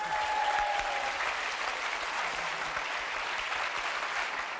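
Studio audience on a French TV game show applauding in a sustained, dense wash of clapping, loud and steady from start to finish with no break.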